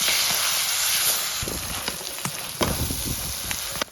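Plantain frying in a pan with onion, chilli and turmeric for a shrimp curry, giving a loud continuous sizzle with scattered stirring clicks and scrapes, no voices.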